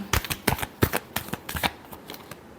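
Tarot cards are shuffled by hand in quick bursts of crisp riffling, about a dozen sharp flutters in a steady rhythm, close and clear with no talking.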